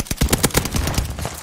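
Shotgun blasts in Call of Duty: Vanguard, a rapid close burst of several loud, sharp shots fired in quick succession with no talk over them.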